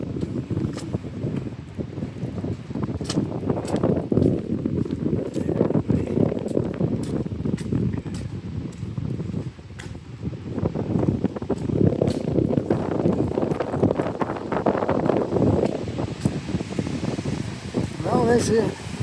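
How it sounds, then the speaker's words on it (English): Strong wind gusting down a downtown street in heavy rain, a steady roaring rush with swelling gusts and patter of rain, while a person talks over it. "We got a wind tunnel coming this way."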